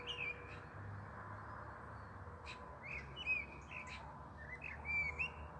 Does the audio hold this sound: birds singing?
yes